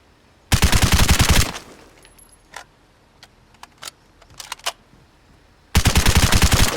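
Gun firing in the video game Vigor, two loud bursts of rapid automatic fire separated by a few seconds of quieter clicks and small metallic handling noises.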